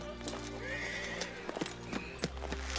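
A horse neighs and its hooves clip-clop in a period drama scene at a king's camp, a clear whinny rising over sharp, uneven hoof strikes nearby, with no talk.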